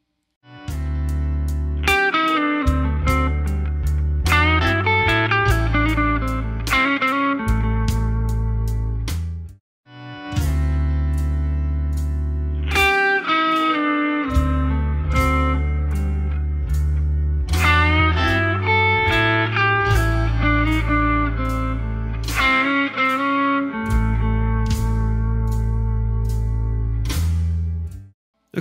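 Electric blues guitar plays a single-note lead lick over a 12-bar blues in A, with bent and sustained notes phrased in bursts and brief gaps, loud and close, with no talk.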